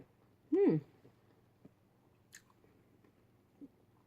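A single close, crunchy bite into a vegan jackfruit sushi roll with crunchy vegetables and sticky rice, followed by soft, faint chewing.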